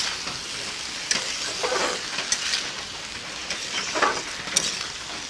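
Fish curry with yardlong beans being stirred in a hot pan, soft sizzling and frying under repeated scraping strokes of a spoon, fairly close and alone with no voices.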